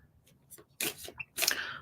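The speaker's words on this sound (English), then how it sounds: "while I shuffle the cards" Tarot cards being shuffled by hand during a reading, two quick riffling bursts of papery flutter, close and crisp, with a soft voice faintly beneath.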